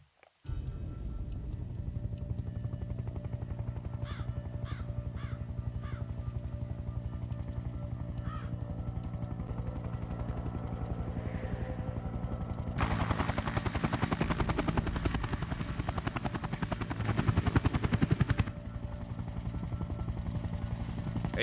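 Helicopter rotor thumping steadily throughout a Sniper Ghost Warrior 2 game scene, loud and continuous, swelling in intensity for several seconds in the later part, with a few crow-like caws early on.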